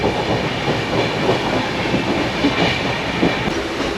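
An express train rolls along the rails with a steady rumble and faint rhythmic clatter, heard from inside a carriage departing Dadar station in Maharashtra, with no voices.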